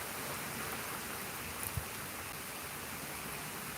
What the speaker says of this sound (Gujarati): વરસાદ સારો આવે છે